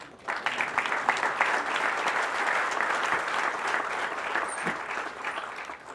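An audience at a talk on Indian Air Force heroes claps in a dense, sustained round of applause that swells quickly and stays fairly even.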